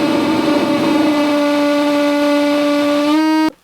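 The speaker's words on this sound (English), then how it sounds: "And you can tune the noise like this." Korg MS-20 synthesizer plays a loud buzzy sustained tone as its noise signal is tuned, holding steady for a few seconds, then wavering and cutting off abruptly at the end.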